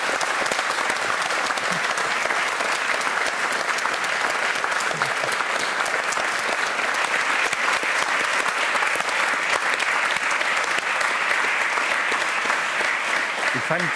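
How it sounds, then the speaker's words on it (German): Studio audience of a German late-night talk show breaks into sustained, dense applause that fills the room evenly from start to finish, with no voices standing out. "Sie genießen auch den Applaus,"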